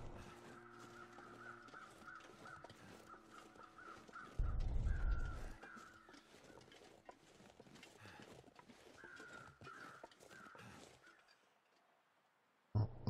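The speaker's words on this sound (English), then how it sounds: "I hear more crows" Several crows caw repeatedly at a distance over a steady ambient background in the video game The Long Dark, with a brief louder thump partway through.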